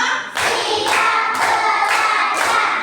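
A teacher leads a counting clap routine in a primary-school maths lesson, giving about five loud, close, evenly spaced hand claps in a steady rhythm.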